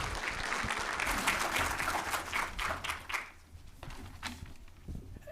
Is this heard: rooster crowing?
no